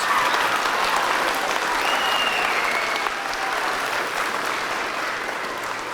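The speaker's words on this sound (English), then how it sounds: "Give him a round of applause." An audience at an elementary school Veterans Day program applauds a young man who has just graduated boot camp, giving a steady, sustained round of clapping that holds for the whole stretch and eases slightly near the end.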